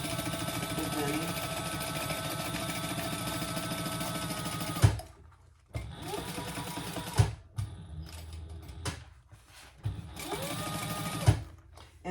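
A sewing machine stitches soft vinyl seams for a crossbody bag in fast, steady bursts, stopping and restarting several times with short pauses between runs, close and fairly loud.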